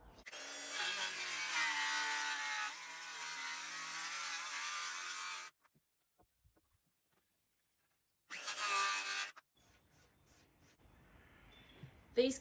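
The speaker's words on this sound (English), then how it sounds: "These cuts are going to take me ages because this is really old hardwood" A saw cuts through old hardwood, first a long, loud, close rasping stretch, then silence, then one short burst, followed by faint clicks.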